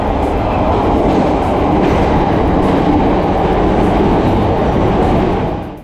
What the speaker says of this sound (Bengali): এখান থেকে আমরা ট্রেনটা ধরবো।